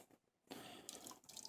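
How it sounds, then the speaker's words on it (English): Hot water pours into a homebrew mash tun, a steady splashing rush that kicks in after a brief quiet moment and carries on close and fairly loud, brightening near the end. "Add the hot water in."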